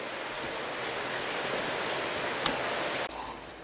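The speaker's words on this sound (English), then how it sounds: "As you can see, I am enjoying a hot shower." Hot water pours steadily from an Evershower shower, a close, constant hiss of spray like heavy rain, with a brief knock near the end before the flow continues slightly muffled.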